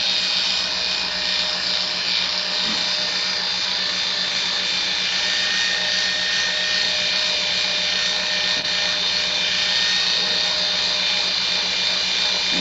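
Electric clippers shear wool from an angora rabbit, a steady close buzzing hum with a constant whine that barely changes, running alone without talk.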